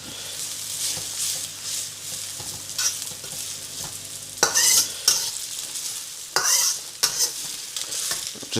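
Chicken chow mein noodles with onions and spring onions frying in an oiled pan while being stirred constantly, a steady close sizzle broken by louder scraping, tossing bursts.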